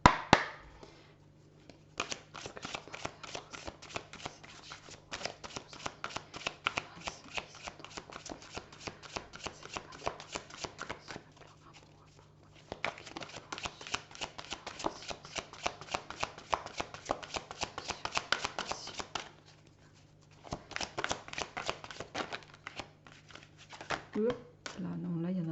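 Tarot cards being shuffled for a reading come as long runs of rapid, crisp riffling and flicking up close, broken by short pauses, while someone speaks French softly throughout.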